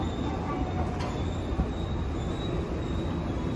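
A Nankai line train in Osaka runs at speed, filling the space with a loud, steady rumble of wheels on rails and a faint high squeal above it, heard from inside the carriage.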